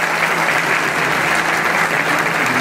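A crowd applauds a child singer at a formal civic event, with sustained, even clapping filling the whole stretch, fairly close and without any voice over it.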